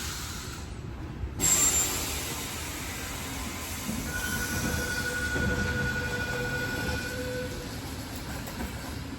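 A Sydney Tangara train at a station, its wheels squealing in a sustained high screech over a steady rumble of rolling stock, with a brief loud burst near the start.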